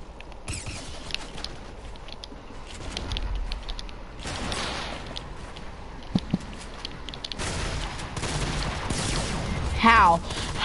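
Gunfire rattles in a console shooter video game, a dense stream of rapid shots and clatter running under steady game noise, with a couple of sharper cracks near the end.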